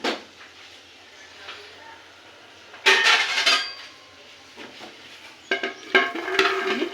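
A pot of freshly popped popcorn is shaken off the heat in bursts of rattling, scraping clatter, loud and close, with quieter gaps between the shakes.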